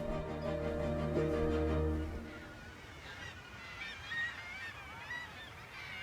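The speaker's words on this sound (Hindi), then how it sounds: "पूरी दुनिया में ही दूर दराज तटीय इलाकों में शोर मचाते समुद्री पक्षियों की बड़ी बड़ी कॉलोनीज होती हैं" Seabirds of a large colony on a remote coast call noisily, loud honking cries dominating the first two seconds, then fading into a busy, distant chatter of overlapping bird calls.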